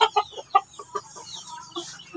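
An Aseel mother hen clucks in a series of short, irregular notes, close and moderately loud, with faint background noise.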